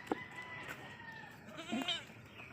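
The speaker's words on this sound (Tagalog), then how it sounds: "Yun ang kambing namin, bagong panganak." A mother goat that has just given birth to kids bleats nearby, with a couple of short calls standing out over faint background noise.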